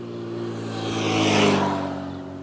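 A car speeds past on a road beside a tree-planting spot, its engine tone swelling as it nears and fading as it moves away, with no other sounds over it.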